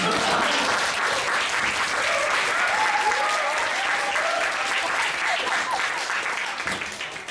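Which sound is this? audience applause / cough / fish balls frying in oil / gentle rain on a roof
audience applause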